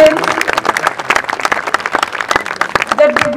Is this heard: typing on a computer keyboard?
no